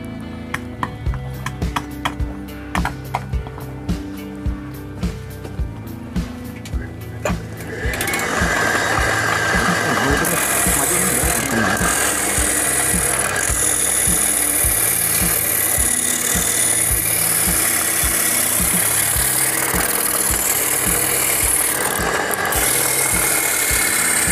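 A workshop machine shapes bamboo pieces for miniature crafts. Sparse ticking gives way after several seconds to a loud, continuous grinding and rasping whine that runs steadily to the end.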